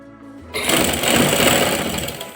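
Sewing machine stitching fabric around a curve, starting abruptly after a quiet moment and running as a fast, close, steady mechanical clatter for about two seconds.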